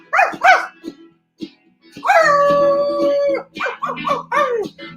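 Voices imitating a dog, with short barks followed by a long drawn-out howl and more yipping barks, loud and close.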